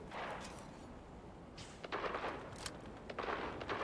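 Gunfire in a shooter video game, with bursts of sharp shots and thumps in quick clusters, loud and close, over a constant dense background rumble.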